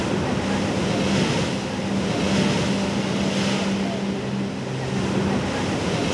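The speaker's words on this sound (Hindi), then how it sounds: "ये आवाज़ समंदर की लहरों की होती है" Steady roar of Mumbai sea surf with broad wash rising and falling, heard from inside a house, wind-blown and continuous, with a faint low engine-like hum underneath.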